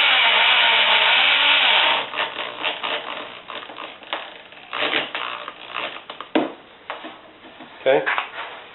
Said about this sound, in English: you don't want to split the oak by driving these screws in here